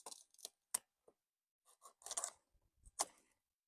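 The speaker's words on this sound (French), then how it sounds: "Donc, je vais couper le premier brocoli." Snips and crisp cuts as a broccoli head is severed from the garden plant, several short separate bursts close by with quiet gaps between, no talking.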